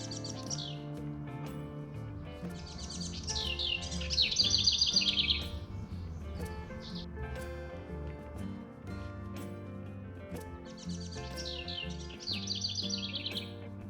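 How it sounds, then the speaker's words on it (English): Small birds chirp and twitter in quick bursts on Lower Table Rock Trail in southern Oregon, over a soft background of low, steady tones, moderately quiet and a little distant. "listen to the birds"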